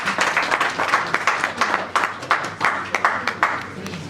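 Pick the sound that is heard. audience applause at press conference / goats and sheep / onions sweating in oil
audience applause at press conference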